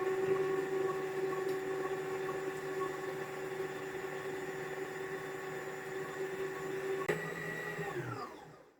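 An electric stand mixer beats choux éclair dough with a steady, loud motor whine and hum that runs continuously close by, then winds down and stops at the end.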